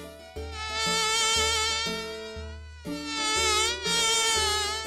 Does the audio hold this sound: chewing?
no